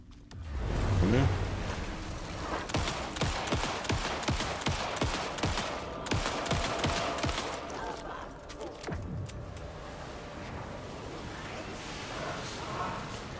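Rapid bursts from a fast-firing gun in the video game Alan Wake II crackle in quick sharp volleys, close and loud, fading into game ambience in the second half.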